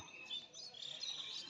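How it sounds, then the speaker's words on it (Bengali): Faint, thin bird chirps flicker high over a soft background hush, scattered and distant with no clear rhythm. "শুধু পাখিদের কিচিরমিচির ডাক"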